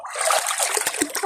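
Water splashing and trickling as someone bathes in a village pond under hot sun, with bursts of sloshing and dribbling close by and no talk.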